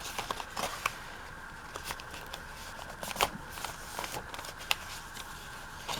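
Paper sheet being folded by hand for a handmade journal, a close series of soft crinkles, taps and light rustles spread through the moment with no talk.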